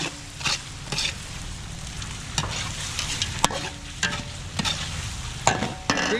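Garlic and onion sauté in a large pan at an outdoor cooking event, with a steady sizzle broken by repeated clanking strokes of a stirring utensil.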